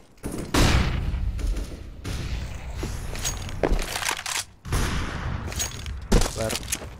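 Flashbang grenade thrown during a Counter-Strike match, heard amid loud in-game gunfire, bursts and footsteps, with voices talking over the action throughout.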